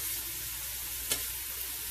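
Chicken pesto alfredo pasta is stirred in a pan: a steady, soft sizzle runs throughout, broken by a single brief utensil scrape near the middle, with no voices.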